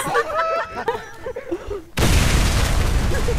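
A loud explosion in the video game Warface bursts in at about two seconds and rumbles on as a thick roar, following a stretch of clattering game sounds and voices.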